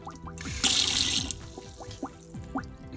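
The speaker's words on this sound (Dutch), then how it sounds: "Komt er water uit de kraan of komt er geen water uit de kraan?" Water gushes from a camper's kitchen tap in a short, bright burst and then drops to splashes and drips. It is close and fairly quiet, with no speech.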